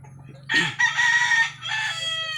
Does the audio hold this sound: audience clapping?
no